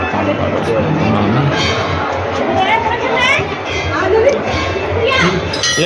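A busy Shaktidai fair in Chhattisgarh is packed with people, a dense babble of chatter and children's voices filling the air at close range with no pause.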